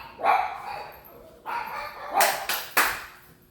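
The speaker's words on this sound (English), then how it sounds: "That Chihuahua, I'm telling you, barks at everything." A Chihuahua barks sharply several times, a first yap followed by a quick burst of three or four close, high-pitched barks.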